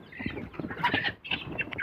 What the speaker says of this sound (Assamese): এই সোণালী মুৰ্গীখিনি বেচিবলৈ যাবলৈ ওলাইছোঁ।